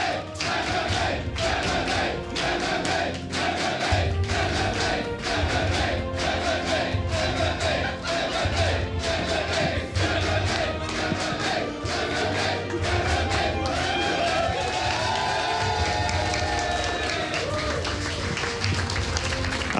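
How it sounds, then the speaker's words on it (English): A large crowd of MMA fans at a StarCraft 2 grand final cheers and shouts in a steady rhythmic chant, with claps and beats repeating throughout before it loosens into broader cheering near the end. "the fans who are like always shouting MMA, MMA"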